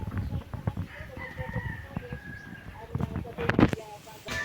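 Chickens, including breeders, cluck and a rooster crows nearby amid busy farmyard bustle, with a person talking over the birds.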